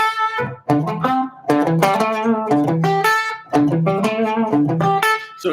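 Electric guitar played in an unusual African-style alternate tuning, with a run of plucked, ringing notes and chords in short bursts and brief gaps, loud and clean, close up with no talking.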